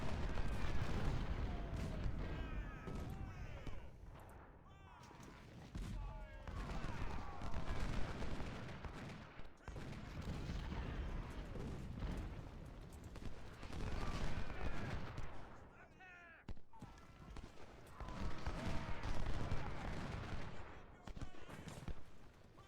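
Cannon and artillery fire in the Civil War strategy game Ultimate General: Civil War, loud repeated booms and crackling volleys rolling in dense waves, with a busy battlefield din running underneath.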